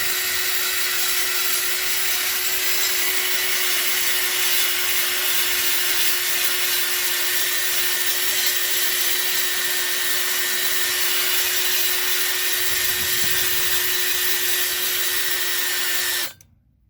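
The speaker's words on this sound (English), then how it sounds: "I've got this wire wheel attached to the cordless drill" A wire wheel on a cordless drill stripping sticky residue from a Mitsubishi Pajero alloy wheel whirs steadily and loudly for the whole stretch, a harsh scratchy buzz with a constant motor tone, then stops abruptly.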